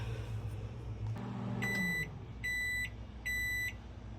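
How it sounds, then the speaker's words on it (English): A microwave oven heating old plastic hums steadily, then gives three evenly spaced, piercing beeps as it finishes. "Alright, got it out of the microwave."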